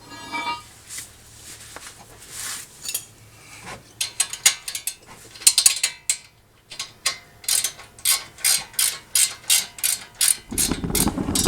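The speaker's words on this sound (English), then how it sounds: "And then we're just putting that nut back on." A ratchet tightens the 19 mm axle nut on a 2014 Honda Odyssey passenger-side CV axle shaft. Irregular mechanical clicks give way to a steady run of repeated ratcheting strokes, close and crisp, with no speech.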